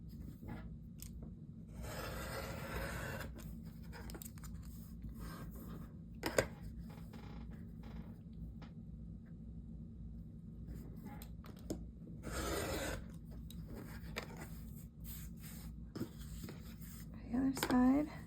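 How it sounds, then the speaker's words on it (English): Scissors or a paper cutter slice 6 1/2-inch paper strips for a Christmas ornament, making quiet scraping and snipping sounds in a few short bursts against a low steady hum, with a brief louder rustle near the end. "now we are cutting 6 1/2-inch strips"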